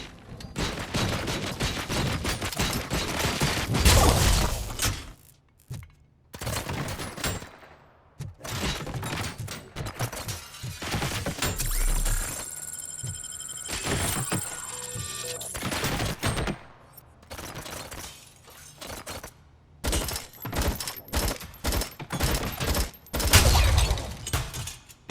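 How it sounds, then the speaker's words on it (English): Robot UED gunfire in RoboCop: Rogue City rattles in rapid machine-gun bursts with sharp impacts and shattering debris, loud and near, broken by brief pauses and a high mechanical whine. "Oh, those UEDs shoot so beautifully. Too bad they're shooting at me!"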